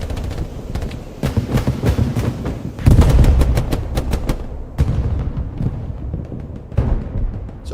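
In a multiplayer war video game match, artillery fires smoke rounds toward a strongpoint. Sharp gunshot-like reports crack in quick irregular bursts over a low, rumbling backdrop, with a heavier boom near the middle.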